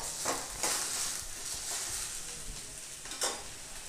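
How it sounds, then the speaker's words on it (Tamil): Brinjal (eggplant) pieces sautéing in a pan for a masala, with a constant sizzle under repeated scraping stirs that come at uneven intervals, close and clear, with no voices. "வதங்கட்டுங்க கத்திரிக்காய்."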